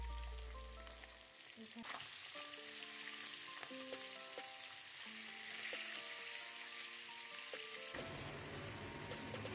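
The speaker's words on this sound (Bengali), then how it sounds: "মেখে পরে ভাজবো এটাকে।" Salmon fish head seasoned with salt, turmeric and chili powder sizzles in hot oil, a steady loud frying hiss that starts abruptly after a brief low hum and runs on with small crackles and clinks.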